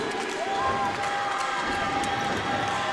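Spectators at a Savannah State basketball home game against Allen keep up a steady roar late in a close game, with constant dense cheering and chatter and a few high whistling tones riding on top.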